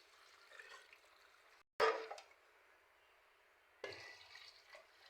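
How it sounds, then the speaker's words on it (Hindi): Water poured into a pressure cooker over beef and halved onions for shami kabab, heard as two bursts of splashing and trickling liquid separated by brief quiet, moderately loud and close with no talk. "अब इसमें पानी डालेंगे।"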